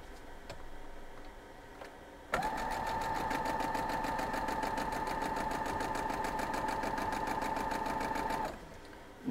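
A sewing machine stitches an A and a D quilt square together for a Tree of Life mystery quilt, a steady, close rattling whir that starts a couple of seconds in, runs unbroken for about six seconds, then stops, with no talk over it.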